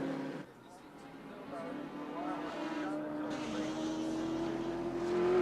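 Touring cars racing at Wanneroo Raceway in 1983 drone past at a distance, a rising engine whine climbing steadily under a commentator's continuous talk.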